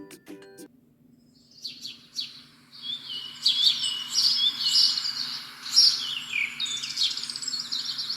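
Several birds sing and chirp together in a lively, continuous chorus, bright high calls overlapping, moderately close, after a brief quiet start.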